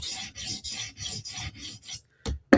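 A Spyderco knife blade is drawn across a sharpening stone in about six rhythmic rasping strokes, close and crisp, followed by a couple of sharper scrapes and a clack at the end.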